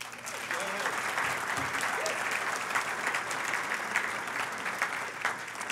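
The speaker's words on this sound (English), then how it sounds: "deserves our huge round of applause this morning" Sustained applause from an audience at an annual meeting for a longtime village mayor at Lake George, steady and dense for the whole stretch, with a few voices mixed into the crowd.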